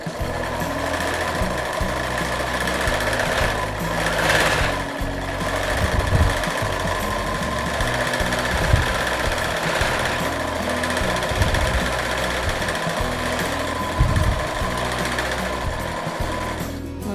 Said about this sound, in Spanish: levanto aquí y vuelvo a incorporar la parte de la tela y sigo cosiendo